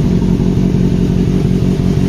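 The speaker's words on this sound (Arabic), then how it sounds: "انت سامع صوت المحرك المكان الموتوسيكل على فكرة داير" A 2008 Suzuki B-King motorcycle engine idles steadily and loudly up close, with a continuous low throbbing rumble and no speech over it.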